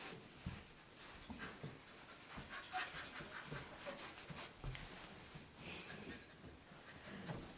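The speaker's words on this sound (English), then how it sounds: "That big humongous thing right there, that's a puppy." A large puppy pants rapidly and rhythmically close by, quick breathy huffs repeating over several seconds with a few faint whimpers mixed in.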